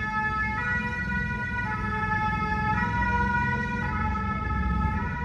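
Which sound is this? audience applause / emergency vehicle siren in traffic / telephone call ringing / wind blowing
emergency vehicle siren in traffic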